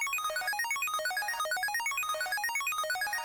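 A synth pluck drenched in reverb and ping pong delay, a fast sequence of bright, bouncing melodic notes with echoing repeats spreading across the stereo field over a steady low drone, no voices present.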